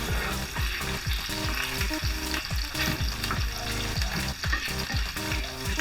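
Pork browning in a hot pan for a Nepali-style curry gives a loud, continuous sizzle and crackle, with repeated rhythmic stirring or scraping strokes running through it.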